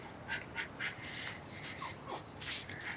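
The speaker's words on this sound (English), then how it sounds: "I put my dog outside, but she barks incessantly when there are people outside" Muffled barks and whimpery yelps from a dog shut outside, repeating irregularly at a moderate distance with no talking.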